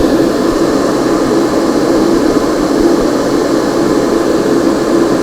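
Loud, steady hiss of compressed air exhaust from an airbrush setup in a small apartment, blowing dust off a painted miniature; a continuous broadband rush with no pauses and no talk.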